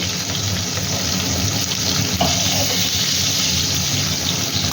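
Mutton pieces frying in oil with turmeric and salt give a steady, close hiss and sizzle that runs unbroken, with faint kitchen clatter underneath.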